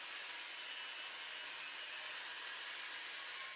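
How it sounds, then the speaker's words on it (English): An angle grinder with a cutting disc grinds slag out of a weld on an armoured diff pan for a Land Rover axle, a steady loud hissing whine that runs unbroken throughout. "So I'm using the cut disc here first of all, and that will clean out the slag"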